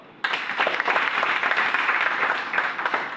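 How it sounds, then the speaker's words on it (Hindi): A crowd bursts into loud, dense applause at a business leadership gathering, starting abruptly and continuing steadily without talk. "पहले तालियां बजा दो"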